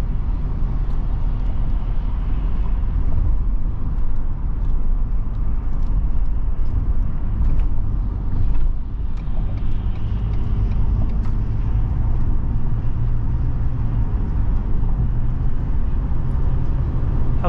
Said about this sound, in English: we'll go ahead and accelerate from there so that you can hear that